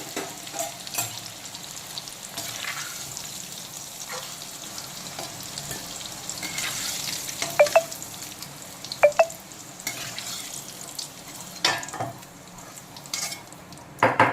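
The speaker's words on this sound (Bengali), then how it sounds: "আলুগুলোকেও কিন্তু খুব ভালো করে ভেজে নিয়েছি ডুবো তেলে।" Potatoes deep-frying in plenty of oil in a pan give a continuous low sizzle, punctuated by clinks and scrapes of a spatula against the metal, with no talking.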